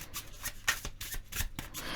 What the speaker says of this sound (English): I'm now gonna shuffle through the deck until it feels about right